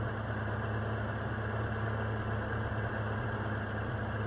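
A Ford XA Falcon car engine idles steadily after sitting unused for 16 years, a continuous low rumble with a faint knock, fairly close and alone with no talk.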